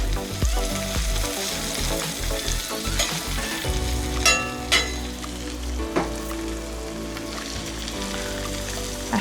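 Butter sizzles and fries in a hot pan while quiche filling is prepared, a dense, crackling hiss with scattered sharp pops and stirring scrapes, close and continuous, with no talking.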